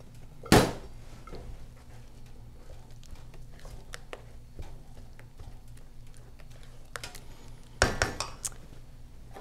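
Blueberries are stirred into gluten free pancake batter in a bowl, giving two sharp clinking knocks of utensil on dish amid soft scraping and quiet kitchen background.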